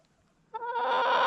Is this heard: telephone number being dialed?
no